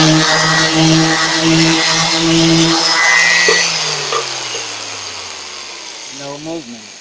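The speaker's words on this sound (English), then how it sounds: "flip it over, clamp it again, and sand the other" A power sander works a small clamped piece, its steady whine lasting a few seconds before the motor spins down and fades.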